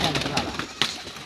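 Pigeons kept by a pigeon fancier coo briefly, the soft calls set against a busy, fairly loud background with a sharp accent near the end.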